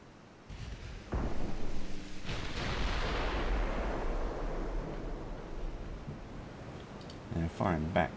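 Heavy gunfire and booming blasts roll through a US campaign battle in a war video game, one sharp report followed by a long, loud rumble that fades, with short crackles near the end.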